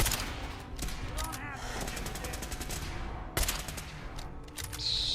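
Sniper rifle shots in Fallout 4 survival mode during the Kellogg fight, a handful of sharp cracks spaced through a busy game soundtrack, with a voice talking over them.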